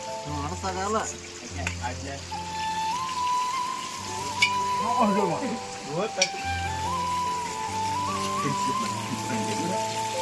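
Sliced onions frying in hot oil in a pan, a continuous crackling sizzle with occasional stirring scrapes, while people talk and background music plays over it.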